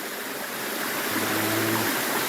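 A stream of water partly diverted by a dam rushes steadily as broadband noise, close and continuous, with a faint low hum appearing midway.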